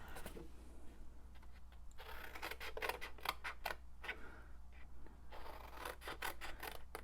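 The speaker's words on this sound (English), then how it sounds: "We're going to cut up to our interior score line on that side." Scissors cut through scored card stock while a one-sheet card box is being assembled, producing a close run of rasping snips in bursts, with quiet room tone between them and no talking.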